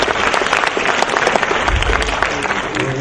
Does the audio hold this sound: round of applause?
yes